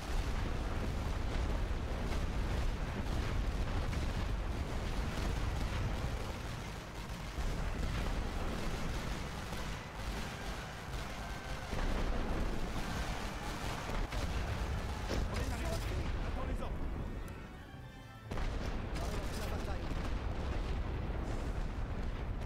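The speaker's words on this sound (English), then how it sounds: "Mortars keep doing its job" Mortars fire in a First World War battle in the strategy game The Great War: Western Front. Dense, continuous booms and rumbling detonations roll one over another, loud throughout with a brief lull near the end, under a voice talking.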